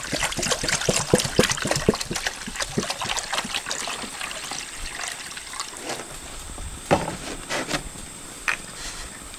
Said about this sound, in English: now I'm going to boil up some water for the pasta.